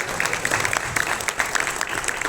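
Dense, steady applause from an audience at a political marketing panel, loud and continuous with no pauses.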